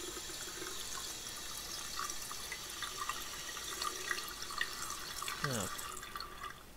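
A hot water tap runs in the video game Yesterday, a faint steady hiss of flowing water with scattered drips and a short gurgle near the end.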